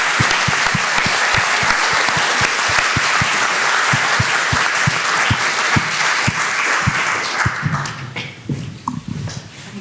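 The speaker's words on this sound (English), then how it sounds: "very warm round of applause." Warm applause from the audience at a university funding panel: dense, loud clapping with sharp individual claps that fades out toward the end.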